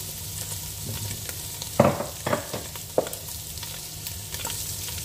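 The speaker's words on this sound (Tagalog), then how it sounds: "Fry muna natin yung karne." Meat sizzling steadily in a hot pan, with a few sharp clinks and scrapes of stirring breaking through the hiss; no talking.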